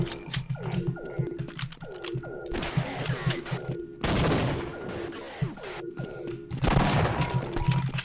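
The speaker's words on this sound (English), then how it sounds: "shooting a grenade at me." Grenade fired at the player during a firefight in a GoldSrc game map: rapid, close bursts of game gunfire with short ringing tails, broken by two heavier, broad blasts around the middle and near the end, loud and with no voices.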